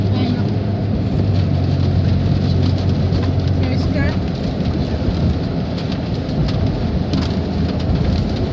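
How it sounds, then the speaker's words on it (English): Heavy rain pouring down during a thunderstorm, a loud, dense, continuous hiss with low thunder rumbling underneath throughout. "I might as well film what it's like being in the rain."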